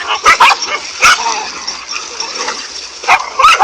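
Several dogs fighting a cobra bark and yip in loud, close, sharp bursts that come in clusters, with whimpering and scuffling between them.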